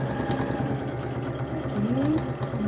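A sewing machine backstitches fabric in a steady, close mechanical whir with a rapid rhythmic stitching pulse, running alone without talk.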